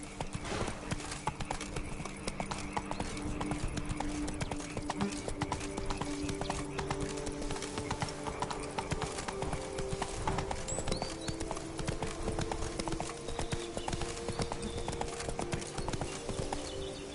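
Horse galloping in the video game The Witcher: Wild Hunt, brisk rhythmic clip-clop of hooves repeating steadily over a continuous ambient bed, with a faint whinny-like tone in places.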